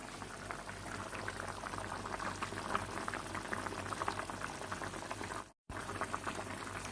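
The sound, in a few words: fish curry boiling in a pot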